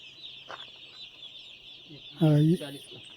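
A poultry chick clucks briefly and loudly up close among a large batch of chicks, over a steady high-pitched background hum.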